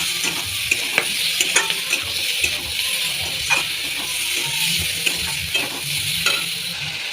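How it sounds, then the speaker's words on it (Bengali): Potatoes and spices frying and being stirred in a pan, a steady close sizzle with repeated scraping stir strokes throughout. "এখান থেকে একটু ভাজা ভাজা করবো।"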